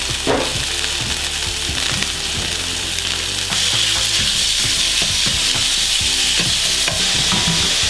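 Meat frying in a pan, a loud continuous sizzle with repeated stirring scrapes and clacks of a utensil against the pan throughout, with no talking.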